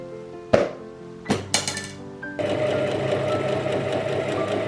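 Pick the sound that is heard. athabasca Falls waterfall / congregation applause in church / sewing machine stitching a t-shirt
sewing machine stitching a t-shirt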